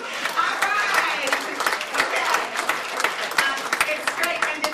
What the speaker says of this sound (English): Will you please clap for her, Donna